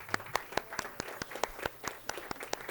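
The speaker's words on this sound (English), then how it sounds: "I would like for us to give a round of applause" A small audience claps in a round of applause, with sparse, separate hand claps standing out over a faint, quiet room background.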